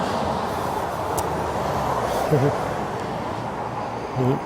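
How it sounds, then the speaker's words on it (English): Steady road traffic from the busy A49 main road rumbles in the background at a classic car auction preview, a continuous distant wash of passing vehicles with faint voices at moments. "Apologies for the noise in the background, that's the main A49."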